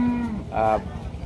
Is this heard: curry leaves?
no